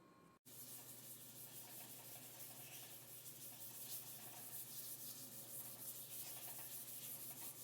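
Fine 800-grit sandpaper rubbed by hand over a used metal beer keg, a steady close scratchy swish that runs on without pause after a brief silence at the start.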